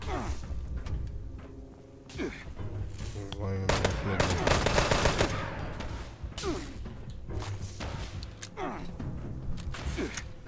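Rapid automatic gunfire from a weapon in a video game, with dense bursts of shots, crashes and whooshes over about ten seconds, loudest near the middle, while people talk over it.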